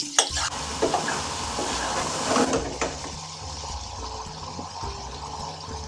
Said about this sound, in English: we're just going to cook out all those spices in this very rich tomato base and just cook that for around a minute